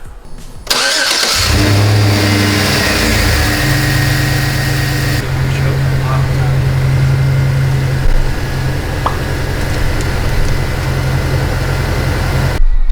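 A 2013 GMC Sierra engine starts and then runs at a steady idle after an oil change, a close, even mechanical hum with a low drone that holds throughout.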